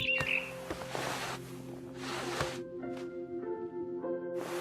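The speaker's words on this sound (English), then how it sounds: "Then I heard chirping outside my window. It was a barn swallow going back to her nest." A barn swallow chirps outside a window in the game What Remains of Edith Finch, with a few brief high calls early on over a faint, steady tonal ambient hum.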